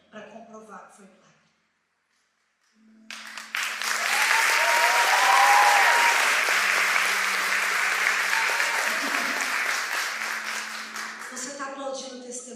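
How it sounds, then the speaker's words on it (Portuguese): A large audience bursts into loud, sustained applause after a spoken testimony, a steady wash of many hands clapping that slowly eases, with a voice talking just before it starts and again as it fades. "Você está aplaudindo o testemunho, né?"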